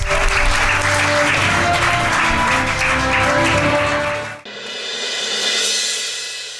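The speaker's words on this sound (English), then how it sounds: "A bigger round of applause, ladies and gentlemen, for these very powerful women who are here tonight." Steady, loud applause from an audience at the INFOCOM 2015 business event in Delhi, with a tonal music bed underneath; it cuts off abruptly near the end and gives way to a quieter, different backdrop.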